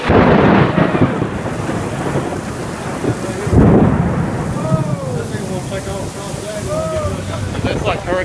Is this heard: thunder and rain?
yes